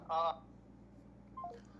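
Telephone keypad dialing tones placed for an incoming call, two short electronic beep bursts separated by a pause, clear against a quiet background with faint voices.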